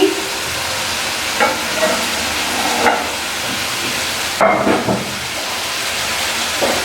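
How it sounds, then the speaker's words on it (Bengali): A little oil heating in a hot kadai gives a steady close sizzle and hiss, broken now and then by short clinks and scrapes of a utensil against the pan, with no speech. "কড়াইটা গরম হয়ে গেছে, কড়াইয়ের মধ্যে একটুখানি তেল ঢেলে দিচ্ছি।"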